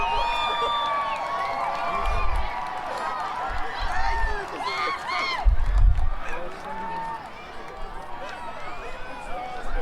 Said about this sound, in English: I don't know if you could hear the crowd